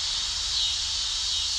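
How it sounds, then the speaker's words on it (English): Cicadas drone in a summer setting on an old rural property, a steady continuous high-pitched buzzing that holds at even loudness throughout with no pauses or talk. "That's some cicadas singing their summer song here on the old place."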